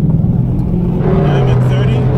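Jeep Wrangler 392 accelerating to 30 mph, heard from inside the cabin: a loud, steady engine drone with its pitch slowly changing, and a person talking over it.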